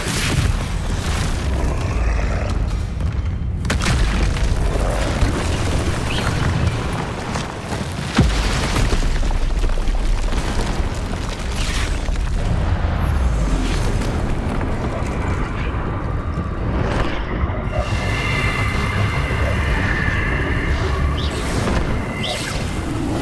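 Confringo and Expulso spell blasts in Hogwarts Legacy, a dense run of booming explosions and whooshes, loud and continuous over game sound.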